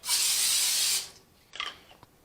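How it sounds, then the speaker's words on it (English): A single close hissing spray burst of extra virgin olive oil cooking spray onto a pan lasts about a second, followed by a brief clatter and quiet rustle. "grab our extra virgin olive oil spray and just have a nice even coat on the pan"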